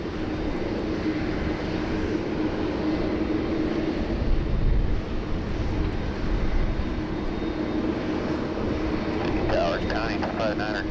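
Delta 509 airliner departing Sydney Airport in heavy rain, a steady broad engine roar over constant rain hiss, with a faint radio voice near the end.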